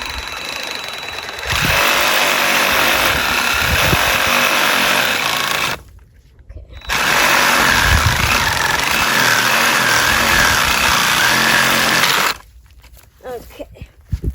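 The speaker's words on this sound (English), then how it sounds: "using a sawzall, electric saw to cut down trees." An electric reciprocating saw, a sawzall, cuts down a tree outdoors, running loud and steady in two long bursts of several seconds each with a short pause between, then stops with light rustling.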